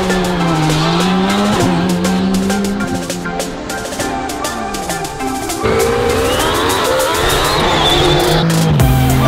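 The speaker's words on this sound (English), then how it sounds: "more of a saloon type track day cars that are lined up here that are going to go up the hill climb." Saloon-type track day cars rev and accelerate loudly up a hill climb, engine notes rising and falling through gear changes, close and continuous with overlapping exhausts.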